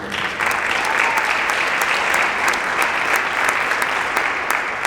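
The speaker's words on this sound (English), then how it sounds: "So give yourselves a round of applause." An audience at a high school jazz band concert gives a loud, dense round of applause, a sustained roar of many hands clapping close and even throughout, with no break.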